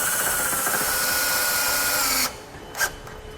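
Power drill with a 1/4 inch socket driving a self-tapping screw into a vehicle frame, a loud steady whir for about two seconds that stops abruptly, followed by a short faint tap.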